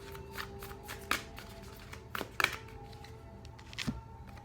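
Tarot cards are shuffled and handled for a reading, giving a few sharp riffles and slaps at irregular intervals over a quiet background hum.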